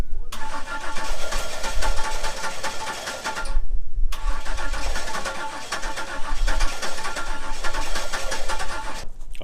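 A 1997 Camaro rescued from the crusher cranks and fires loudly up close in two long, rough bursts separated by a brief silence, the engine catching unevenly without settling into a smooth idle.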